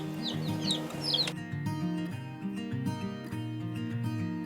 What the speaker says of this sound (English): We have the chicks eating